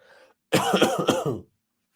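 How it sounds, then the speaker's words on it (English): A single burst of harsh, rapid coughing lasting about a second, close and loud, after a faint murmur, then silence. "I'm coughing pretty bad"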